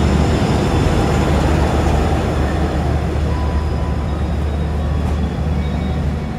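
Steady loud rumble and rattle inside an Argo Cheribon passenger carriage coupled directly behind the locomotive, a continuous low roar of engine and wheels on rails with no talk.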